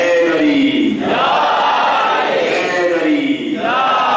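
A large crowd at a religious majlis gathering shouts the slogan 'Haidari' loudly in unison, two long swelling roars of massed voices, close and overpowering.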